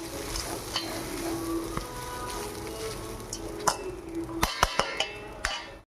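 Lemon rice is stirred and mixed in a pan, a steady soft sizzle under scraping spoon strokes, ending in a quick run of sharp metallic taps against the pan.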